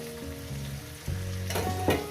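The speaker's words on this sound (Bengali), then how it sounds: "দিয়ে এটাকে আমি ভেজে নেব" Cut potatoes sizzle and crackle as they fry in oil in a pan, a close, continuous hiss with some stirring toward the end.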